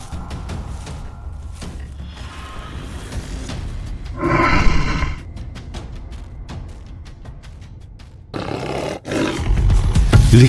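Deep, loud lion roars with rumbling grunts, one long roar in the middle and another bursting out near the end.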